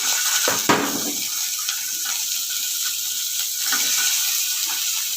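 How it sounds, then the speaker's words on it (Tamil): Small shallots frying in sesame oil in a pan, a steady close crackling sizzle after an initial burst of clatter, continuing evenly with no talking. "நல்லெண்ணெய் விட்டு சின்ன வெங்காயம் போட்டுக்கோங்க."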